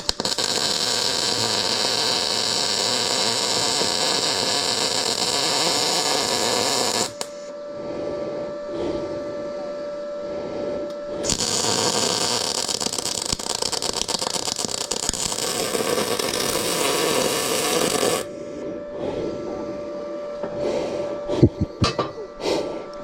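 Welding on support legs for a 3-point tractor blade produces two long stretches of steady crackling hiss, broken by a quieter pause with faint clicks and handling noise.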